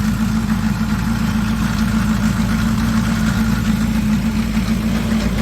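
A GMC truck engine idles after an engine swap, a loud, constant low rumble with a steady mechanical drone and no variation, recorded close up with no talking.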